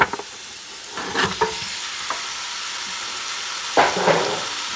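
Turkey necks going into a pan over sofrito for a fricassee, with a low, steady sizzle broken by a few sharp clatters and louder bursts of frying.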